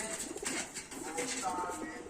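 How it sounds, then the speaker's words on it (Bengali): A female Mada pigeon, a fancy breed kept by a pigeon fancier, coos softly in short low murmurs over a close background hum, with faint voices nearby. "এটা মাদা পায়রা"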